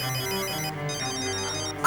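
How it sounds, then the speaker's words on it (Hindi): A telephone ringtone plays steadily in a Pakistani TV drama, with a continuous melodic electronic tone over soft background music and no talking. "फोन ना उठाइए, फोन ना उठाइए।"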